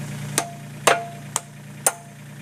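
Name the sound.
rubber dead blow mallet tapping a pin into place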